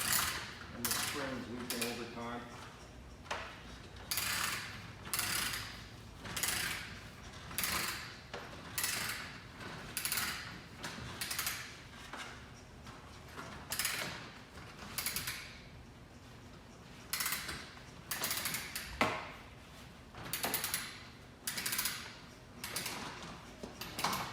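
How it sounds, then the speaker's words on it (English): Long awning on a 2014 Crossroads Hampton 380 FK RV being retracted, giving a steady series of ratcheting, clicking and creaking mechanism sounds in repeated pulls, fairly close, with some quiet speech in between. "Once the awning is retracted"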